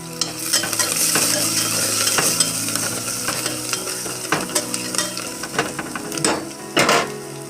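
Chili, bay leaf, chopped coriander and tomato are stirred in a hot pan with garam masala, a continuous sizzle punctuated by irregular clinks and scrapes of the spoon against the metal, close and clear.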